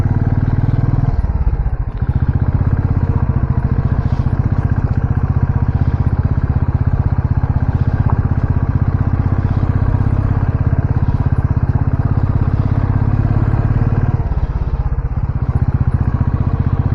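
Motorcycle riding up a hill road toward an old temple in the early morning, its engine droning steadily and loudly throughout, with wind rumble and a brief dip in noise near the start and end.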